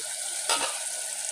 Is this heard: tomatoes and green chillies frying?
yes